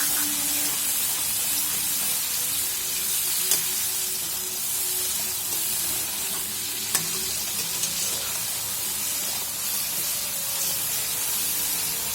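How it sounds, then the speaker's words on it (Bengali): A wet paste of dried chili powder, turmeric and salt sizzles steadily in a pan while being stirred for a Bengali shukto, with a constant close frying hiss and a few faint utensil taps. "শুকনো লঙ্কার গুঁড়ো, হলুদ আর নুন একসাথে জল করে দিয়ে দিলাম, দিয়ে একটু নাড়িয়ে নেব"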